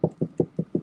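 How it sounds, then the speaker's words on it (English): Five light fingertip knocks on a door, evenly spaced and quick, close and soft with no voices. "when you knocked on someone's door, you always use the tip of your fingers"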